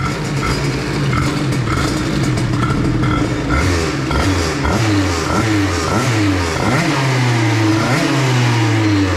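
Peugeot 103 moped engine fitted with a 2Fast 70 exhaust and Carters Boost, running loud and continuous with repeated revving rises and falls over a steady buzzing drone throughout.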